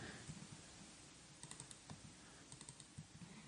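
Short bursts of computer keyboard typing while numbers are entered into a web form, a quick run of soft clicks and key taps heard close and alone.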